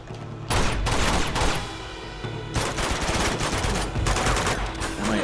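Sustained bursts of turret gunfire from the video game Uncharted 2, loud and close, firing in long continuous volleys with a brief lull in the middle, no voices over it.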